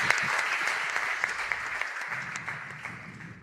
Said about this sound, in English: they're giving lots of applause for our friends here today